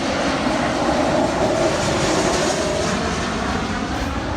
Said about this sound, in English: Here it comes. There it is. Hey plane, wonder where you're going.